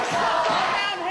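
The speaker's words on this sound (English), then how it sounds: "O'Shaunessy really feeding off the energy of this crowd here in Lucan" A wrestling crowd at a live Irish show in Lucan roars in a loud, sustained wash of cheering and shouting, with no break.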